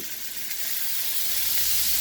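Seasoned meat sizzles in a hot frying pan, a steady close crackling hiss that swells slightly louder as it goes on, with no talking.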